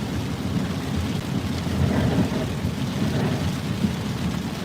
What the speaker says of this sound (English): That was close too, because that thunder was pretty loud.